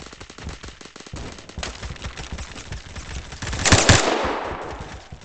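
Rapid automatic gunfire rattles through Phantom Forces, dense overlapping bursts of shots with a louder, closer volley near the end, heard without talk.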